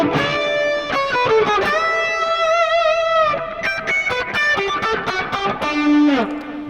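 Distorted electric guitar plays a melodic line with echoing repeats and a wash of reverb, notes ringing and overlapping throughout.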